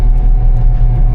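A combine harvester travels along a road in its slow road gear, giving a loud, steady, close engine rumble with a constant droning hum.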